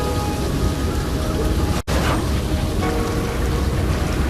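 A heavy thunderstorm with pouring rain gives a dense, steady roar and low rumbling throughout, broken by a momentary dropout midway.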